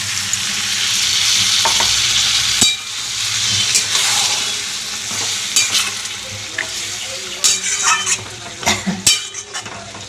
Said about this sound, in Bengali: এবার একটু গরম জল করে রেখেছিলাম গরম জলটা দিয়ে দিলাম